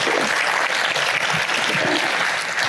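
Sustained, dense applause from a conference keynote audience, loud and steady for the whole stretch with no talking over it.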